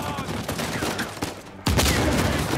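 Dense, loud bursts of gunfire from the video game Uncharted 4, rapid continuous shooting that cuts briefly and then resumes with a sharp heavy blast, up close.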